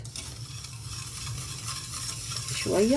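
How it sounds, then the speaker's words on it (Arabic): A spoon stirring sugar, water and lemon juice in a pot, a soft steady scraping swirl up close. A voice speaks briefly near the end. "عصر كده نص ليمونيه كده يا جماعه، وهقلبهم كده مع بعض"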